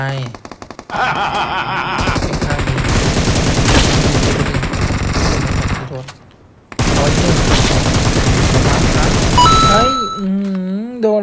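Rapid automatic gunfire in the PUBG Mobile video game on the Livik map, loud dense bursts of shots with a brief pause before another long volley, with a voice talking over it.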